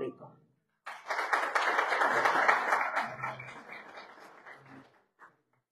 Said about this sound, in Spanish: Empezamos este evento con un fuerte aplauso del público.